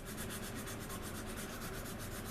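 A sanding stick rubs steadily along a seam on a plastic model aircraft, a Anigrand C-124 Globemaster kit, giving a quiet, even rasp of repeated strokes, close up and alone.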